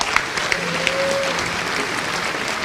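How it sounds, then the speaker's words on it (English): Audience applause fills a room with steady dense clapping at close range, a faint tone and a few sharp claps poking through the wash. "Give a round of applause."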